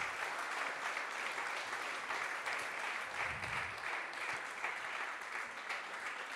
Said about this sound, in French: Merci à nos trois experts, on peut les applaudir.